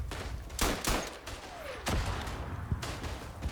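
Machine gun fire in the First World War shooter Verdun comes as several sharp, separated bursts of shots against a busy background of distant battle noise.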